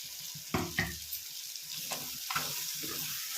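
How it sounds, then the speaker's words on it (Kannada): Ground masala for a hotel-style chicken sambar fries in hot oil, giving a steady soft sizzle with a few brief stirring scrapes, close and moderately loud, no talk. "ರುಬ್ಬಿದ್ದೀನಲ್ಲ ಮಸಾಲೆ ಇದನ್ನು ಹಾಕೋಣ ಇದು ಮೊದಲೇ ಫ್ರೈ ಮಾಡ್ಕೊಂಡಿರೋದ್ರಿಂದ ಅಷ್ಟೇನು ಫ್ರೈ ಮಾಡೋಷ್ಟಿಲ್ಲ ಸ್ವಲ್ಪ ಫ್ರೈ ಮಾಡಿದ್ರೆ ಸಾಕು"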